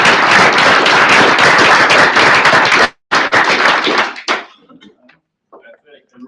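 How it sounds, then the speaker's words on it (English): Audience applause after a talk at a JavaScript meetup, a full room clapping loudly and steadily, briefly pausing, then tapering off to a few scattered claps. "I think we get another round of applause for Sheriff Todd"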